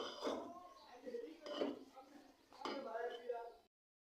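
A utensil knocks and scrapes against a pot in a few bursts while sesame dough is stirred and mixed, quiet and close, ending in silence.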